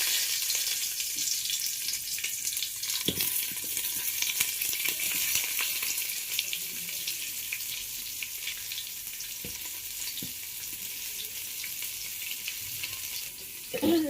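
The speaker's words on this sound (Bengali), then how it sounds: "আর এই গরম তেলে এবার আমি দিয়ে দেবো পেঁয়াজটা" Chopped onions sizzling steadily in hot oil in a pan, after fried potatoes were lifted out, with a bright continuous crackle and occasional stirring knocks close by.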